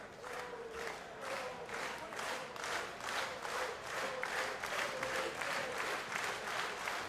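A wrestling crowd claps and cheers in steady, swelling waves of applause, a dense roar that holds throughout with no clear voices on top.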